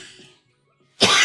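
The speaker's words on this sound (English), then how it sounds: "I'm going to have a coughing fit." A single harsh cough bursts out loud and close after a moment of near silence, following some faint earlier noise.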